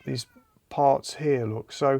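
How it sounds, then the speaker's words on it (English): A noisy house cat meowing for food in a workshop, several loud, drawn-out meows close by, overlapping someone talking. "I'm being invaded by a noisy cat who wants feeding."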